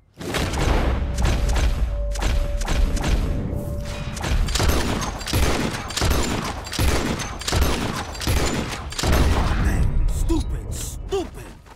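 Gunfire in a Red Dead Redemption 2 shootout, with dense bursts of rapid shots and heavy booms that fill the scene almost continuously and sound loud and close.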